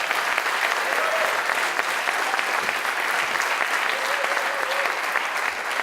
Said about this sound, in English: Give a round of applause for the organizers real quick.